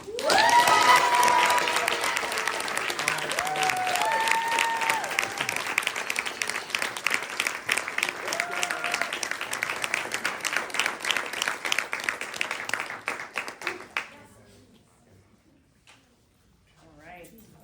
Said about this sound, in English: I really want to give a big round of applause to Therese Tan.